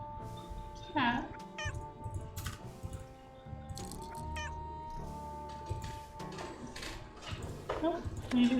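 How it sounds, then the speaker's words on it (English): A house cat meows and caterwauls several times nearby, with drawn-out wavering cries over computer keyboard typing and a person talking. "Cat."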